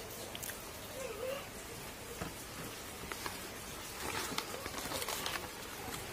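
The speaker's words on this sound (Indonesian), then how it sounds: "Ini suasananya hujan" Steady rain falls outside a small food stall, a soft continuous hiss with faint scattered drops and bird calls in the background.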